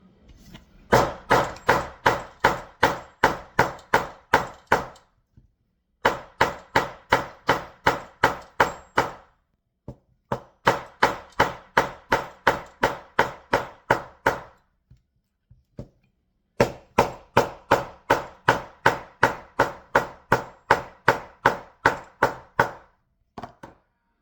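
A sledgehammer repeatedly smashes a plastic air purifier, rapid loud rhythmic blows in four long bursts separated by short pauses, each strike sharp and cracking.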